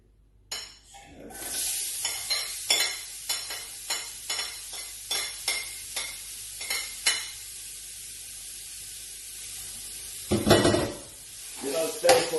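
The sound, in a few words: chopped onion, garlic and chili frying and stirred in pan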